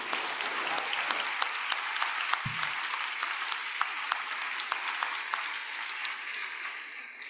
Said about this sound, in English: Can we have another round of applause for the Director General?